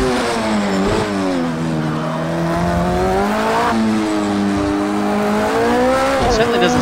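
Simulated LMP1 prototype race car engine from the cockpit in Project Cars 2, a loud sustained whine rising and falling through gear changes with a brief tire squeal, continuous throughout.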